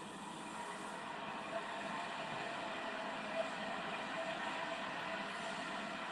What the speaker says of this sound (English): we took the train down to the next station